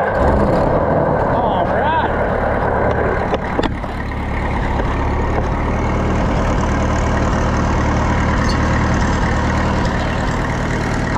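An Oliver 66 Super tractor engine idles steadily, a low rumbling, evenly throbbing drone close by, with a brief clunk early on and a voice talking over it.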